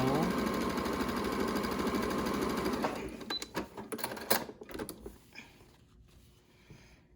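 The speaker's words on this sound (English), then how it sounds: "And then you just sew the edges shut like so." A sewing machine stitches the edges of a cloth mask, running as a continuous close mechanical whir for about three seconds, then stopping and giving way to scattered clicks and handling of the fabric.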